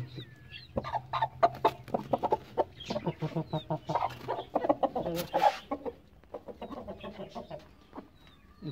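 A hen clucks close by while being lifted into a cage with pigeons, giving a run of short, choppy clucks and squawks in uneven bursts with pauses between them.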